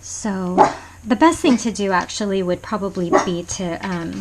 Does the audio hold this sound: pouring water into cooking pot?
no